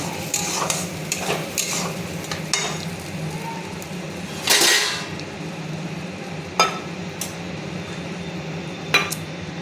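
A prawn dish with spice paste being stirred in a pan, with a run of close clinks and scrapes from a utensil against the metal and a faint sizzle beneath, plus a louder scraping burst partway through.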